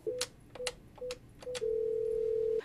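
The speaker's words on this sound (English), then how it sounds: "The phones are ringing" Telephone tones in a busy office, four short electronic beeps followed by one long steady tone, clear and close.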